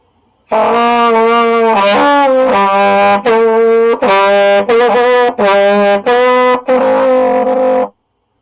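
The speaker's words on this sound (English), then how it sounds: "you can still get a sound out of your trumpet, but the pitch will not be going up" A trumpet blows a series of separate notes that stay roughly at the same pitch because the lips are not tightened, each held briefly with short breaks, loud and close.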